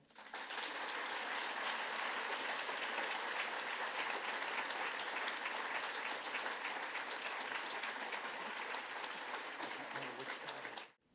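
A book-club audience at the Appel Salon gives sustained applause to welcome the author, a steady, full wash of clapping that holds evenly for about ten seconds before cutting off.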